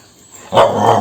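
A dog lets out one loud, close bark after a near-silent moment, the bark ringing on briefly.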